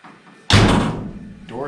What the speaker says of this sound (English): Door is locked.